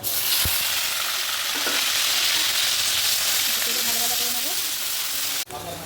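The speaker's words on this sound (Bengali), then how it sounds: "এবার দিয়ে দেবো পেঁয়াজ বাটা" Onion paste sizzles loudly in hot oil with whole garam masala spices for a chicken dish, a steady close hiss with a few stirring clinks, cutting off abruptly near the end.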